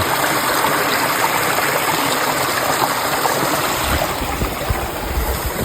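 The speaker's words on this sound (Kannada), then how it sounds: "ಕೆರೆ ನೀರು ಗಾಯ್ಸ್ ಇದು" Lake water moves in a steady, broad rushing wash heard close by and fairly loud, continuous throughout with no speech over it.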